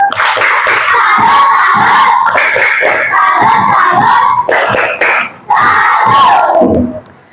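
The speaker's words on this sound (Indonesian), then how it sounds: "Tepuk tangan untuk semuanya dan beri tepuk salut." A classroom of children claps and cheers together in a loud, sustained burst of shouting and rhythmic clapping, with a brief dip before another rousing round of voices.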